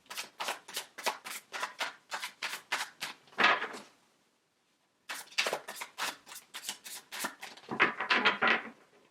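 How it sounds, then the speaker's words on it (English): A deck of tarot cards is shuffled during a love tarot reading: two long bursts of crisp, rapid riffling flutters, close and clear, separated by a brief silent pause. "Let me shuffle a little bit more."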